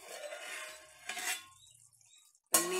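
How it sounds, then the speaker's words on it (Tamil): A metal lid clanks onto a pot of chicken biryani rice simmering on the stove, a few soft scraping kitchen sounds followed by one sharp close clatter near the end, with no talking. "இப்ப ஒரு 5 மினிட்ஸ் மூடி வச்சிருவோம்."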